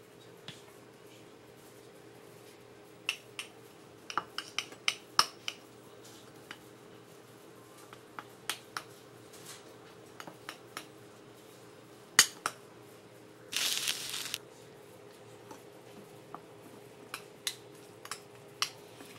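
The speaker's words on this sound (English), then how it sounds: "And now we mix it all up." Sushi rice being mixed in a bowl with the ingredients, including wasabi, giving scattered soft clinks and scrapes of utensil against bowl, with a brief louder rustling burst midway and a faint steady hum underneath.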